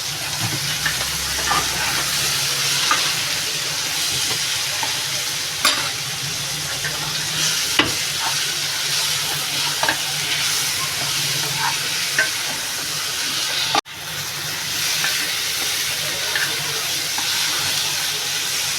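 Mustard paste stirred into a drumstick curry frying in a pan, a steady loud hiss and sizzle with occasional spoon knocks and scrapes, one brief sharp clatter near the end, no talking.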